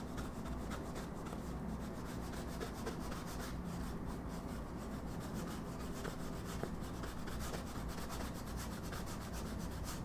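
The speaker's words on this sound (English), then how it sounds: "Scraping the brush into the canvas, something I don't normally advise doing" A paintbrush scraping acrylic paint across a canvas gives a continuous, close, dry rubbing and rasping texture that stays even and uninterrupted throughout.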